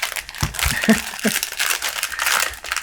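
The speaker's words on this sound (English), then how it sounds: "I'm having trouble unwrapping stuff today." Plastic packaging on a puzzle cube crinkles and crumples close by in continuous rustling bursts, with some faint vocal sounds mixed in.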